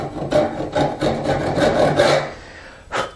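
A tenon saw, used on a blank hand saw plate with no handle yet, cuts into wood in steady back-and-forth rasping strokes, close and fairly loud, about five strokes before a pause and a final stroke.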